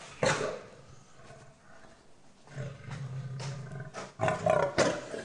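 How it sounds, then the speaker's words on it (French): A pair of white lions in a show-animal cage roar and growl in deep, rough bursts, close and loud, with pauses between calls. "Au détour d'une cage, un couple de lions blancs."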